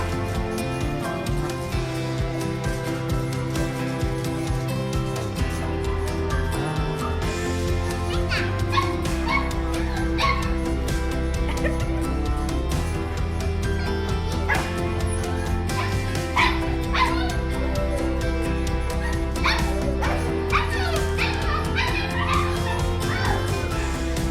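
Small dogs greet a returning owner indoors with excited yipping barks and whimpers, scattered bursts over steady background music, with some human voices mixed in.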